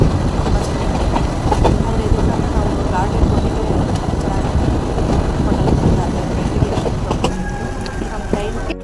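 A train on the Mysore to Ooty line rolls along with a loud, steady rumble and rattle that runs unbroken throughout, with faint tonal squeals rising near the end.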